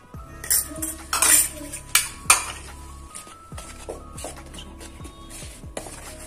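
A utensil mixing semolina in a metal bowl makes repeated clinks and scraping knocks against the sides, irregular and close, some strikes louder than others, with a steady low hum beneath.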